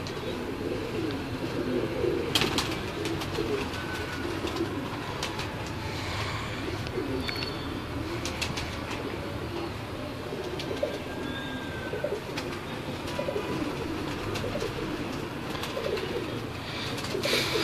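Teddy pigeons cooing steadily throughout at a bird show, a soft continuous layer of throaty coos with a few sharper bird sounds over low background noise.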